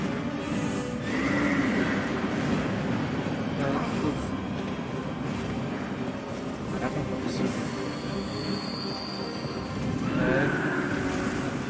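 A horse whinnies loudly in Dark Souls 2, with hoof clip-clops and a steady rumbling background, a second neigh rising near the end, while someone talks over it.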